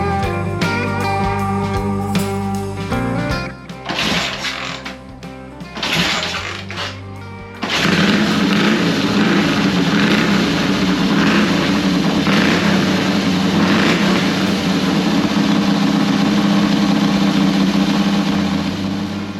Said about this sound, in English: Fired up on the third kick.